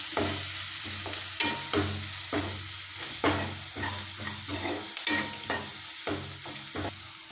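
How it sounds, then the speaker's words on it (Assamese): Onions with turmeric fry in a pan until reddish for a pumpkin-shoot dish. A steady close sizzle runs throughout, broken by regular stirring scrapes about every half second. "পিঁয়াজখিনি ৰঙা হোৱালৈকে ভাজি আছোঁ।"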